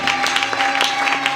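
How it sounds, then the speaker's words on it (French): A church congregation claps and cheers for the Lord, a dense, steady wash of applause with bright bursts of hand claps running through the whole short moment. "Acclame très fort pour le Seigneur."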